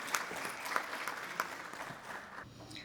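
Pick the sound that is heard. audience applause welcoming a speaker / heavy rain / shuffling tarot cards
audience applause welcoming a speaker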